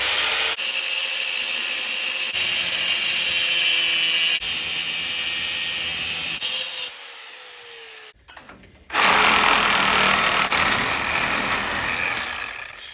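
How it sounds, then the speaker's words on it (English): A cutoff wheel grinding through solid steel on an off-road buggy build: a loud, continuous high-pitched whine that drops out briefly, then bites in again harder. "let's try a new cutoff wheel"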